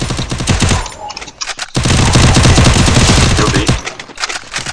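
Rapid bursts of automatic gunfire in a 4x4 competitive shooter match, loud and close, with short pauses between volleys.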